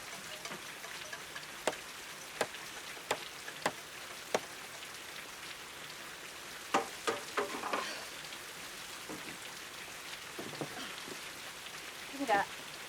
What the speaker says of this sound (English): It's raining on top of the roof.